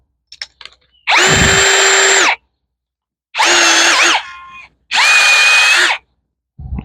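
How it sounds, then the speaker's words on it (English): A DeWalt cordless drill with a scrub brush attachment, scrubbing a stainless steel grate, whirs loudly in three bursts, each spinning up and running for a second or so before stopping. "So I'm going to try this DeWalt drill brush"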